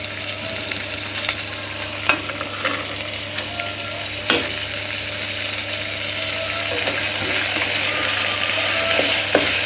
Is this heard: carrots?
yes